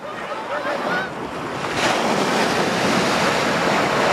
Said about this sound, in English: Ocean tides play tricks with visitors, quickly and quietly swallowing the stone path that connects the island with the mainland